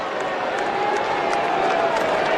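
A stadium crowd at an AFL match between Port Adelaide and Hawthorn roars in a steady, dense wash of cheering that holds evenly throughout, with a commentator's voice running over the noise.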